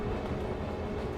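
A train rumbles in the Shadow Hearts video game, a steady low rolling clatter with no voices over it.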